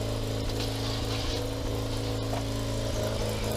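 A small carburetted engine idles at a steady, even 1500 rpm, a continuous rumbling drone close by with no talking.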